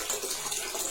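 Dirty, rusty water runs from a tap in a steady hiss and splash that stays constant and close throughout.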